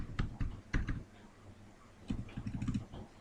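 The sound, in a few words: typing the word address on a computer keyboard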